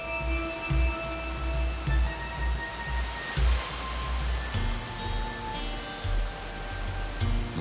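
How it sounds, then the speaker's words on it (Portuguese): Water from a rocky, rugged forest stream pours down a stone wall in dense woodland in southern Bahia, a continuous rushing splash with faint tonal background hum and no voices. "E surge um paredão de pedra por onde a água escorre."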